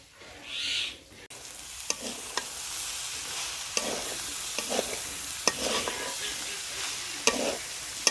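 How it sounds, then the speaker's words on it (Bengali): Meat coated with chili, turmeric and coriander powder fries in a pan, giving a steady, close sizzle broken by repeated scraping clinks of a spoon as it is stirred. "দেখেন মাংসটা কত সুন্দর করে আমি ভাজি ভাজি করে নিছি।"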